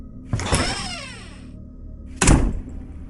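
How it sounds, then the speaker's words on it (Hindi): A door being opened in a quiet room: a heavy thunk and creaking scrape, then a second solid knock-like bang about two seconds later, close and alone. "फिर वो दरवाज़ा खोल कर देखती हैं"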